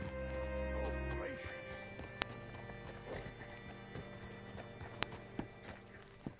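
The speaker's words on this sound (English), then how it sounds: "Hitch your horse up here." Horse hooves clop at a slow, uneven walk, a few soft, close beats and sharper knocks rising over a steady background hum, while people talk throughout.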